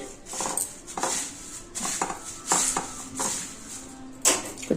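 Spiced poha chivda is tossed and mixed in a metal pan, making repeated rattling clinks and scrapes of a utensil against the pan in an uneven rhythm, close and moderately loud, with no talking.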